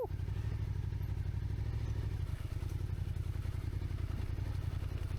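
A Suzuki SV650 motorcycle accelerates off-road through a puddle on a rough road, its engine a loud, steady close drone with rapid throbbing pulses and a brief dip partway through.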